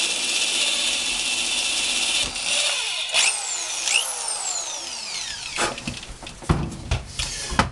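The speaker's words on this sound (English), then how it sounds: "Drill your hole for your bolt" Power drill bores a hole through the center of a metal can while making an alcohol stove, a continuous close whine with sliding pitch sweeps as the bit catches, followed by scattered clunks and rattles.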